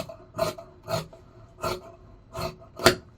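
Scissors cut fabric in a straight line while a dress is being remade into a top and skirt, giving five short, crisp rasping snips at an even pace, close by and with no talking.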